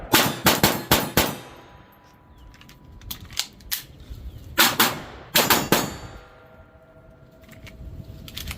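Taurus TX22 pistol fired in a reload drill: two quick bursts of sharp, loud shots, then after a pause a single shot and more short bursts, with metallic clanks and clicks of the reload between the volleys.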